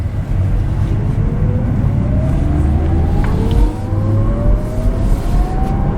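A 2025 Audi RS e-tron GT Performance, an electric sports car, pulls away under throttle from inside the cabin, its motor whine climbing steadily in pitch over a loud, constant road rumble for six seconds.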